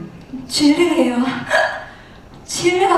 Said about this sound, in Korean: 어머니는 몸을 부르르 떨면서 딸꾹질을 하고 계셨어요.